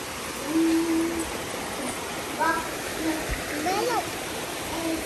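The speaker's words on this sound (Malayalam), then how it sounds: "ഇതാണ് നമ്മുടെ സ്വന്തം തോട് കേട്ടോ നല്ല മെലിയിൽ നിന്ന് വരുന്ന നല്ല വെള്ളം കേട്ടോ" A hillside stream fed by spring water flows steadily with broadband rushing and small splashes, close by and moderately loud; brief tonal chirps, likely birds, rise above it.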